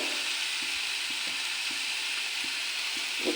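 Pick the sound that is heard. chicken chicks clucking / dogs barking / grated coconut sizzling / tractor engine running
grated coconut sizzling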